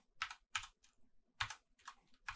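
A command is typed on a computer keyboard in RStudio, producing close, quiet bursts of key clacks in an uneven rhythm with short pauses between them.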